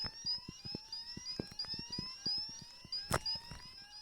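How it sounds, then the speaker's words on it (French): A video game heist alarm blares in a repeating electronic pattern of rising tones with sharp clicks. It plays fairly quietly, with no talking. "Les gars, c'est mort, on a activé l'alarme."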